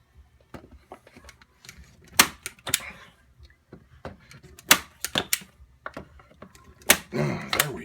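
Small framing points are driven one by one into the edges of a painting board, giving scattered sharp clicks and taps at an uneven pace, with quiet handling noise between them.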